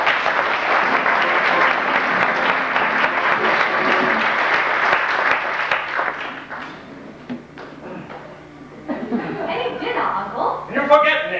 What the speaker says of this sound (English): Ladies and gentlemen, a warm round of applause, if you will, for tonight's guest artiste and London's leading male impersonator